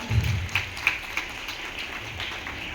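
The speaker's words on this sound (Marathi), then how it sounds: "आपल्या अध्यक्षांना टाळ्या वाजवून अभिवादन करूया" Steady applause from a crowd at a school Independence Day celebration, a dense even patter of clapping that holds at moderate loudness throughout, heard alone without speech.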